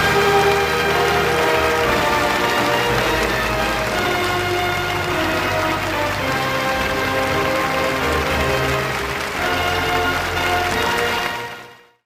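A huge stadium crowd at North Korea's Arirang Mass Games breaks into thunderous applause, a dense, sustained roar of clapping that holds for several seconds before fading out.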